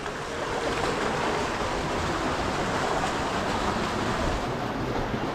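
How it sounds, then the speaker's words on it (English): A waterfall pours in a narrow slot canyon at Willis Creek near Cannonville, Utah, giving a steady, loud broadband rush of falling water that holds unchanged throughout, with no voices over it. "Waterfall."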